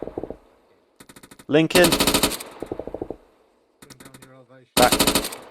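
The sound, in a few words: machine gun fire in video game Arma 3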